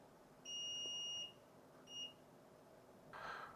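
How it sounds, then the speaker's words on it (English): A multimeter set to continuity mode during a Nintendo Switch OLED repair gives a clear steady electronic beep lasting nearly a second, then a shorter second beep, then a brief third tone. Faint background hiss sits underneath. "So now I'm going to set up my multimeter for the beep mode."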